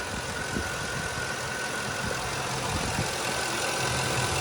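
A 2007 Ford F-150 with a 4.6 liter V8 idles steadily and close up, producing a smooth, even rumble with a faint constant whine and no voices.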